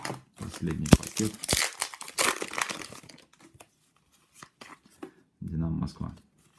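A foil hockey card pack wrapper from a KHL 2017/18 premium case is torn open and crumpled, with close, loud crinkling bursts in the first three seconds, quieter rustles after, and a brief voice near the end.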